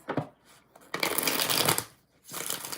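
Tarot cards are shuffled by hand in several quick bursts of crisp riffling and sliding, close and clear, separated by short pauses.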